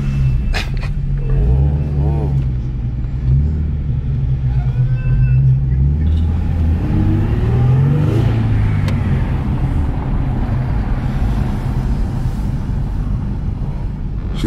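A Nissan 370Z running after a faulty clutch slave cylinder was replaced: a deep, close engine rumble with a few revs rising and falling, steady throughout, with people talking over it.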